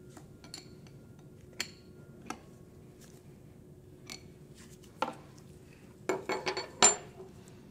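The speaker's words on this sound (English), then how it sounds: "tighten the 9/16 jam nut while holding the set screw in place with your Allen wrench" A wrench tightens a 9/16 jam nut on a hydraulic relief valve of a Bucher Hydraulics power pack while an Allen wrench holds the set screw. Sparse, close metallic clicks and clinks in a quiet space build to a quick cluster near the end.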